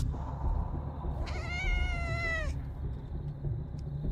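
Cats meow in the video game Copycat, with one clear, drawn-out meow rising above a steady game background, heard alone without speech.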